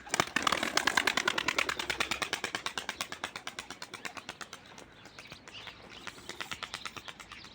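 Rapid wingbeats of a young grey pigeon taking flight, a fast steady flapping that starts loud and close and fades slightly as the bird moves off.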